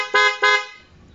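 Two quick honks from the horn of a modified Barako 175 motorcycle with a full-wave electrical setup, loud and close, the second tone trailing off.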